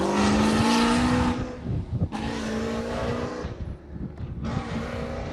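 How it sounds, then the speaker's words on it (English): A Chevrolet Camaro muscle car roars past loudly, its engine note rising and falling through several throttle surges close by, with brief dips between bursts. "I love Camaros. I love American muscle cars, but that one sounded like trash."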